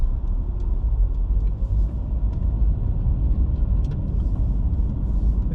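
A car rolls through Taipa, Macau traffic at night, a steady low road rumble inside the cabin with faint clicks and passing traffic noise, and no one speaking.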